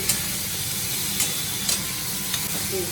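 Garlic, dried chillies and green chillies frying in a pan give a steady, close hissing sizzle, broken by a few soft clicks of stirring, with no voices.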